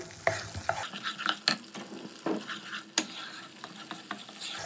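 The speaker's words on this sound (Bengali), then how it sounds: "মশলাটা কষাতে কষাতে আমি ভেজে রাখা আলুটাও দিয়ে দেবো, দিয়ে মশলাটাকে খুব ভালো করে কষিয়ে নেবো।" Masala sautéing with fried potatoes for a katla fish curry, repeated spatula scrapes and stirring strokes over a light sizzle, close, with occasional clinks against the pan.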